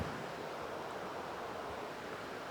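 Heavy rain pours down steadily as broadband rushing water, loud and continuous with no breaks and no voices.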